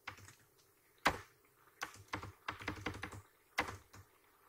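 Someone types code on a computer keyboard, the keys clicking in short, irregular bursts separated by brief pauses, close and fairly quiet.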